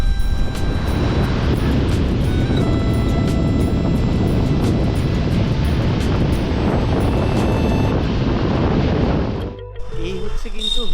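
Sea breeze and surf on Puri beach at dawn, a dense, steady roar of wind and breaking waves that stays loud and even throughout, dipping briefly near the end.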